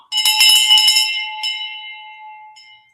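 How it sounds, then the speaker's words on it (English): A victory bell rings out loud and close with a few quick bright strikes, then a longer clear tone lingers and slowly fades, with one light extra tap near the end. "Victory bell for you"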